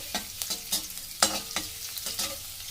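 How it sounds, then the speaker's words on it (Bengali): Chopped ginger and garlic fry in hot oil while a spoon stirs them, a soft bed of sizzle broken by repeated sharp scraping strokes against the pan at an uneven pace, close and without talk. "তেলটা গরম হয়ে গেছে ওর মধ্যে আমি এক চামচ আদা রসুন কুচনো দিয়ে দেব দিয়ে একটু নেড়ে দেবো"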